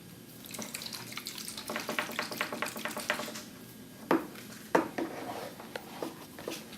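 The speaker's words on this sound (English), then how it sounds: "You now rinse with tap water." Tap water runs and splashes at a sink as equipment is rinsed during pH meter calibration, a fairly faint, uneven stream of spattering water with a few sharper clatters near the end.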